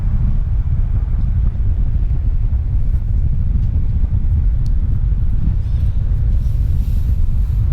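A Yamaha Xmax300 scooter overtaking on the road: a loud, steady low engine rumble mixed with heavy buffeting wind across the microphone, unbroken throughout.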